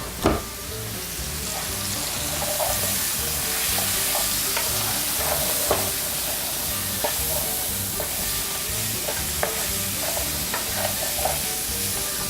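Short ribs fry in a pot while a wooden spoon stirs them, a loud steady sizzle broken by repeated soft knocks and scrapes, close up.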